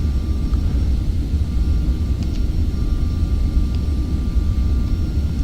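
Steady, loud low roar of jet aircraft engines in Microsoft Flight Simulator X, a continuous rumble with a faint high whine and brief light clicks, no talk.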